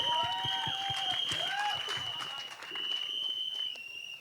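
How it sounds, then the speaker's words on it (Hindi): An audience at a Bollywood film event claps steadily throughout, with a loud tonal whine and chatter layered over the applause. "बंसल साहब के लिए एक बार जोरदार तालियां हो जाएं"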